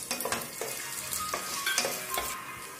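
Dry red chilies and curry leaves crackle and sizzle in hot oil for a kara pori snack, with a spatula scraping and stirring the pan in quick strokes, close and fairly loud.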